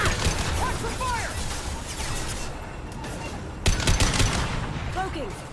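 Rapid bursts of gunfire crackle through a Mass Effect 2 firefight, loud and dense, with a sharp fresh volley near the end and voices calling out amid the shooting.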